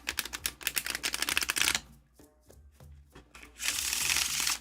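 An oracle card deck is shuffled face up with rapid riffling clicks, then goes quieter with a few soft taps before another bright burst of riffling near the end.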